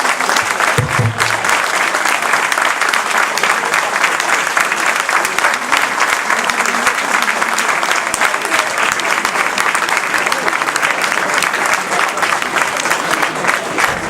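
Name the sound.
audience applause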